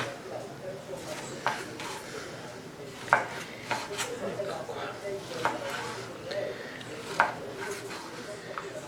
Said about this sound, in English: So I've done it in thick slices, and then I'll slice it again.